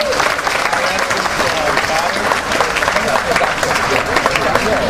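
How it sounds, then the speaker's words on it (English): Audience at a Hawaii bosses night event applauds in a dense, steady wash of clapping that fills the room loudly and evenly for the whole stretch. "Give them all a round of applause."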